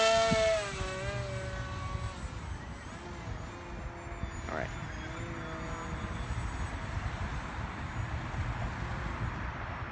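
A homemade twin-boom RC airplane flies outdoors, its small electric motor giving a steady whine that shifts pitch as it passes, fairly faint over wind noise.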